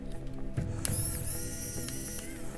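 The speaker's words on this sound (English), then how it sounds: "I think I will start with unscrewing motors." A small tool clicks in quick ratcheting bursts while screws are backed out of the motors of an Aurora 100 FPV drone, close and fairly quiet against light room background, with no one talking.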